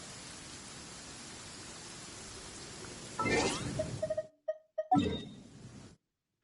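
Steady rain in a video game hisses evenly for about three seconds, then gives way to a louder burst and a few short tonal game sounds before fading to silence.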